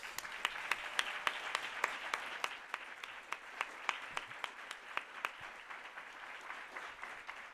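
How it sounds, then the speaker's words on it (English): A small group at an awards ceremony claps for several seconds, sharp individual claps standing out over a soft background hum, fading slightly toward the end. "So please, another applause for them"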